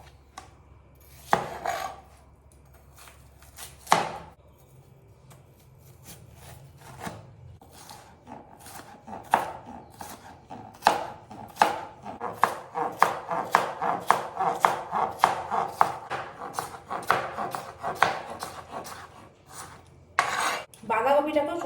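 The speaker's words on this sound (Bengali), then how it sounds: "শসা ছোলা হয়ে গেছে, এবার আমি কেটে নেব" A knife chops a peeled cucumber on a cutting board, starting with a couple of separate cuts, then a quickening run of sharp, close, rhythmic taps.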